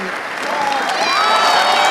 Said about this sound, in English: a round of applause for Ogechukwu Aribodor, our second presenter